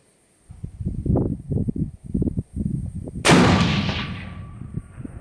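A single long-range rifle shot at a 1,200-yard target range, a loud sharp crack with a decaying boom, preceded by rustling and handling noises close by.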